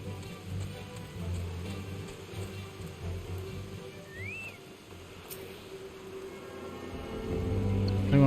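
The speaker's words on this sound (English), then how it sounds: "Oh, it's raining." Rain falls in the Final Fantasy XIV: Heavensward game world, a soft, steady hiss under a low ambient hum that stays quiet and even, with no talking.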